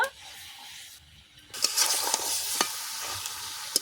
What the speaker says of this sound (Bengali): মাংসটা খুব ভালো করে কষাই হয়ে গেছে, এবারে আমি জল দিয়ে দেব।